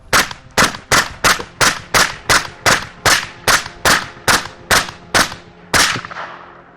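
A rapid series of about fourteen loud gunshots from a gun fired in an even, quick rhythm, each a sharp close crack with a short decay, the last one ringing out longer.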